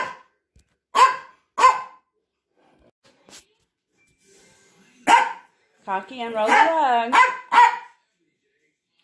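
A mixed-breed Chihuahua lets out sharp single barks, then a longer whining, yowling vocalization, close by, with a person speaking between.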